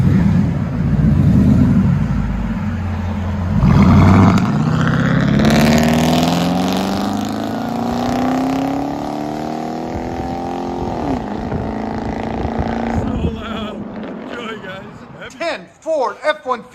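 Ford F-150 XLT 4x4 with a 5.4 Triton engine and true dual exhaust, revving loud and close with rising and falling throaty surges, settling to a rumbling idle, with people talking over it.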